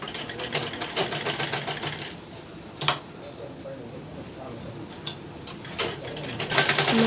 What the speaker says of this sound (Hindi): ये हम सभी तरफ से चला लेंगे सिलाई।